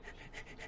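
A voice imitates a dog panting, with three quick rhythmic breathy pants in close succession, near and fairly soft.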